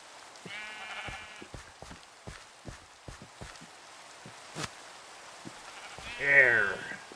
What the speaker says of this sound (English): That noise you hear is all of the sheep in their little pens up above the shop.